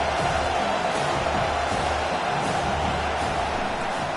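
A college football stadium crowd, probably Oklahoma Sooners fans, makes a dense, continuous roar, loud and steady throughout without distinct cheers rising above it.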